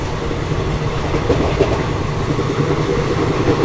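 The Secunderabad Rajdhani Express, a locomotive-hauled train, is heard from aboard a parallel train running near 100 km/h, a steady loud rumble of wheels and carriages with faint rhythmic rail clatter throughout.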